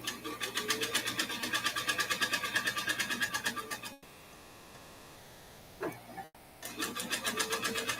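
A sewing machine runs in a fast, steady rhythmic chatter of stitches, stops for a couple of seconds of near quiet with a brief clunk, then starts stitching again.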